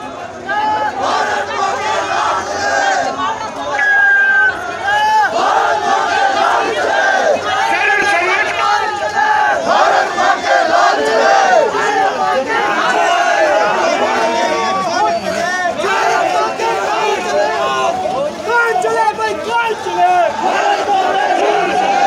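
A protest crowd marching on the Shimla secretariat chants and shouts loudly and continuously, with a dense babble of many voices and rhythmic calls rising and falling throughout.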